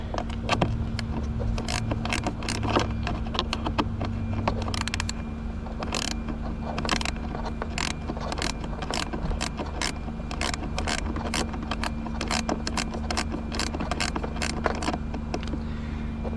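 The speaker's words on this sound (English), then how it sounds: "And go ahead and use my gear wrench." Gear wrench ratcheting 8mm bolts loose on a blend door actuator in a Mazda B4000, a long series of sharp, rapid clicks in uneven bursts, close and steady over a low background hum.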